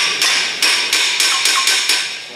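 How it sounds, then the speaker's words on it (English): Seven sharp metallic hammer blows strike a rusted bolt on the lower ball joint of a 2007-2012 Hyundai Santa Fe CM, evenly spaced and ringing, close and loud with no speech. "you can try just hammer it"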